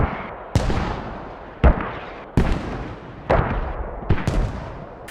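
Mortar strikes land in a first-person video game match, several loud booming explosions arriving one after another at irregular intervals, each with a sharp onset and a rumbling decay.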